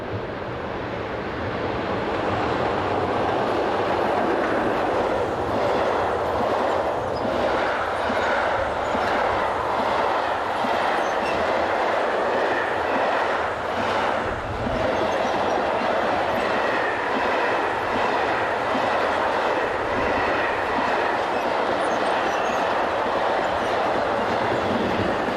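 A Class 151 locomotive hauls a train southbound, its rumble building quickly and holding loud and close for a long stretch, with rhythmic wheel clatter over rail joints throughout.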